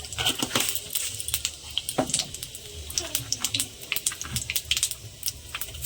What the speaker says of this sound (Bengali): কড়া আমার গরম হয়ে গেছে পাঁচ ফোড়ন দিয়ে দেবো